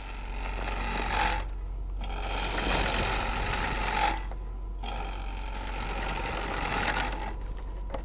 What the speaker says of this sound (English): I'm doing the same pull cut that I was doing, kind of cutting on the little lower corner of the gouge